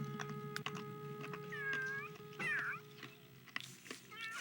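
A tiny kitten gives several short, high meows spread across the stretch, close and fairly quiet, with light household sounds and faint talking in between.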